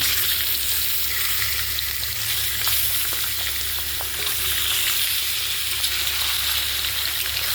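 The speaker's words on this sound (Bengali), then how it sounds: "মাটনগুলো ধুয়ে রেখেছিলাম, এবারে কড়াতে দিয়ে দিলাম" Washed mutton pieces fry in a kadai with a loud, steady sizzle, close up and continuous, with faint stirring underneath and no talking.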